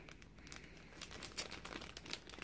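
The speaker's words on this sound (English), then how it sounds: "This is their toolkit. A little clear zippered baggie." A clear zippered plastic baggie is handled close up, giving a quiet, irregular run of crinkles and crackles with one sharper rustle midway.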